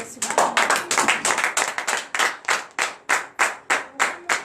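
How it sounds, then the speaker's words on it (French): A church congregation at a prayer week for the sick claps in unison, a loud, even rhythm of sharp hand claps that steadies into regular beats, with voices faintly mixed in. "Veuillez vous lever et donner de vives acclamations à notre Seigneur Jésus."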